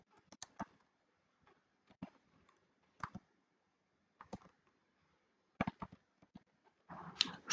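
Keystrokes on a computer keyboard while entering a title and text for a short-form upload on a PC, arriving in short sparse bursts of soft clicks separated by pauses, with a denser clatter at the end.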